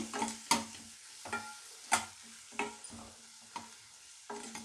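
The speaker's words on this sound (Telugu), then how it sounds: "ఇప్పుడు ఇలా తాలింపు వేసుకోవాలి" Spice tempering for a tamarind and black pepper rasam fries in a pan, a soft, steady sizzle punctuated by regular sharp scrapes of stirring, fairly quiet and close.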